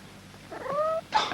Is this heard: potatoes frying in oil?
no